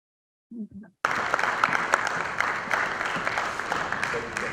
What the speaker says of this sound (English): let's keep clapping and celebrating until she gets to her seat